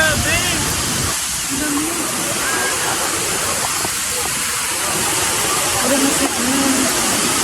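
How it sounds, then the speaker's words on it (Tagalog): The waterfall at Wawa Dam roars as a loud, continuous broadband rush of falling water, with faint voices briefly audible beneath it. "Pakinggan niyo yung falls."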